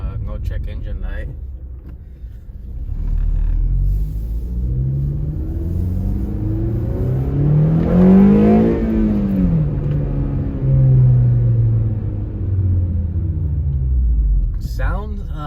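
Engine and exhaust of a 9th-generation Honda Civic fitted with a test pipe, heard with the windows up. A steady rumble rises in pitch through an acceleration and then holds a moderate, even drone.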